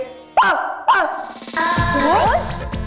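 A person mimics a dog, giving two sharp yelping barks followed by a stretch of whiny, warbling vocal sounds, close and fairly loud.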